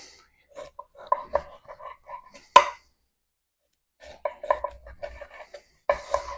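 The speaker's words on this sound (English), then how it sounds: "you flip it upside down, and you can find where the bone is, and just cut them" Knife cutting party ribs apart between the bones on a board: a few short scraping and knocking strokes, one sharper thud, then a pause and another burst of close cutting sounds.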